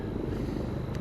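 A helicopter near a wildfire staging area, a loud steady low rotor drone with wind rumble and no pause across the full second.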